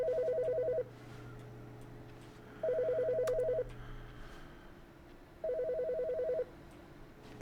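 A telephone ringing in The Stanley Parable, three evenly spaced electronic rings with quiet gaps between them over a low room hum.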